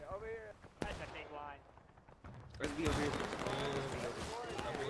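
Artillery fire booms from a House Divided Civil War campaign battle, with sharp blasts and a dense rumble of gunfire building through the second half, mixed under someone talking over the game.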